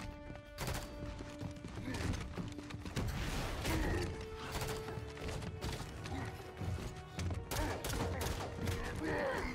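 Dense bursts of gunfire and crashing impacts from a Halo 5: Guardians firefight, loud and continuous throughout with layered mechanical clanks and a steady tonal hum beneath.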